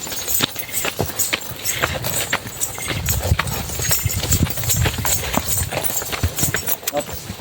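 Large farm horses walking on a farm, hooves clip-clopping in an irregular steady rhythm close by, with someone talking over them.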